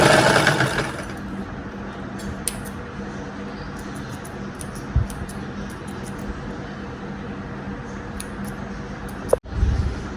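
A sewing machine stitches fabric while an anarkali dress is cut from a saree with a frill. It opens with a short burst of loud whirring, then settles into a quiet hum with scattered faint clicks and a sharp knock near the end.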